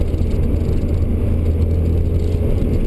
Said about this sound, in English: as you can tell, the inside of this car is very loud